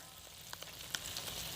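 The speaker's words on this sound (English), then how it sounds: "I think my oil is plenty hot. Let's drop a little tiny piece in there just to see." A small piece of batter dropped into hot frying oil gives a steady close sizzle, with a few sharp little pops and crackles over the hiss.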